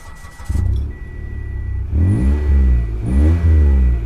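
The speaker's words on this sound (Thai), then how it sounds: "ลองสตาร์ทรถให้ฟังเสียงท่อนะครับผม" A 2018 Mitsubishi Attrage GLX engine with a modified exhaust cranks and catches, then idles with a deep, throaty exhaust rumble and two sharp revs, loud and close.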